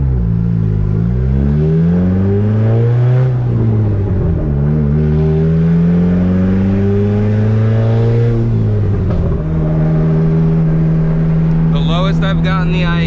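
A fully built, turbocharged Honda D-series single-cam car engine warms up nearby, a loud, continuous drone whose pitch rises and falls gently as the revs change.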